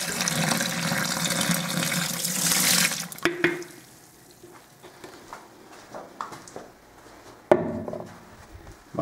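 Water runs from a kitchen tap and pours into a mixing bowl as it is added to dough for pan de novia, a loud rushing flow for a few seconds, followed by quieter handling knocks and clatter.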